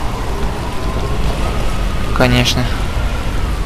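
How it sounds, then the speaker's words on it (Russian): Steady rain falling in the video game Dead Island, a dense continuous hiss throughout with a brief tonal game sound midway and someone speaking briefly over it. "Дождик пошел, ну просто отлично"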